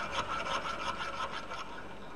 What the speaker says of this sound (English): The fully round file, sometimes called a rat tail file, can make holes bigger.